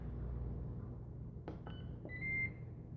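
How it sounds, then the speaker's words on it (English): A kitchen timer is set beside a Ninja Foodi cooker: a couple of faint button clicks followed by a short electronic beep, over a low steady hum. "we're going to put a kitchen timer on for 1 hour"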